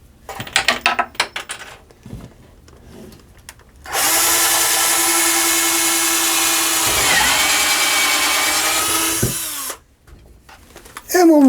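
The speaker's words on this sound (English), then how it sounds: "I'm going to drill a couple of pilot holes with countersink," Power drill boring pilot holes in wood with a countersink bit: one loud, steady whine lasting about six seconds, with a dip in pitch partway through, then stopping, with brief handling noises before and after.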